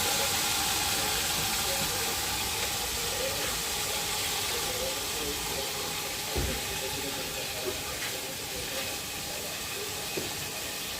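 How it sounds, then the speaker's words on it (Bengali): Lentils and rice being washed in water, a continuous close splashing and running-water hiss with a few soft knocks, steady throughout and without voices. "এই দেখুন ডাল চাল ধুয়ে নিচ্ছি"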